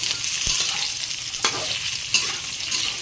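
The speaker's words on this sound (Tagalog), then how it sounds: "haluin natin guys" Food being stirred in a sizzling frying pan, a steady hiss of frying with a few sharp utensil scrapes against the pan, close and clear with no talking.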